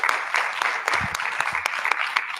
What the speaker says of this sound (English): I think we ought to give them another big round of applause.